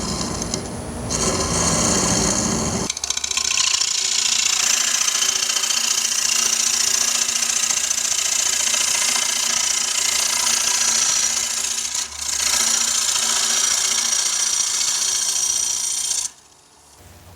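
A bowl gouge hollows a closed-form wooden bowl on a lathe, a steady loud cutting whine and rasp that runs almost unbroken, briefly dipping near the end before it stops abruptly.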